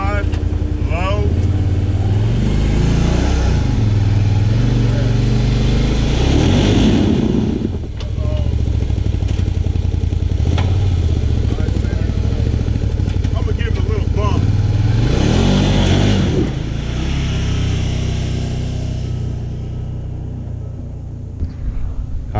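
Can-Am off-road vehicle engine revving in locked four-wheel drive low, a loud close rumble that rises and falls in surges while a person talks over it.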